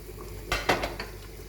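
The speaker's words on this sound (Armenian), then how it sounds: "տաքացած բուսայուղի մեջ տեղադրում ենք կոտլետները" Kiev-style cutlets placed into hot sunflower oil in a frying pan, a short cluster of clinks and thuds as they go in, followed by a faint hiss, close and brief.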